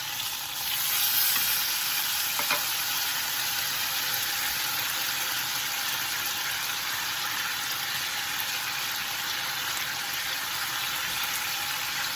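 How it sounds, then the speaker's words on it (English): Spicy Korean skirt steak sizzling loudly and continuously on a grill after being flipped, a dense, bright hiss that stays even for the whole stretch with no talking. "Now we're going to go ahead and flip it and cook it on the other side for just about 30 seconds."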